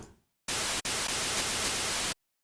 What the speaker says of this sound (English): You like to use the white noise from the analog section.